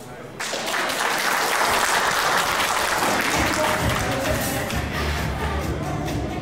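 An audience at a first-birthday celebration bursts into applause, dense continuous clapping that starts abruptly and carries on loudly for several seconds.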